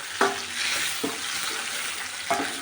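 Hot tempering oil crackling and sizzling steadily as onions, dried red chillies, seasoning seeds and curry leaves fry for a mango dal, with a few sharp clicks of a ladle against the pan over the continuous hiss.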